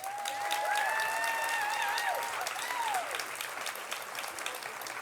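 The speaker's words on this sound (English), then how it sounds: "a quick hand of applause for Jamie and Elizabeth" Steady applause from an audience at the WILMA 2022 Women to Watch Awards, a dense, even clapping that holds at full strength for the whole stretch, with a few whoops or whistles rising above it early on.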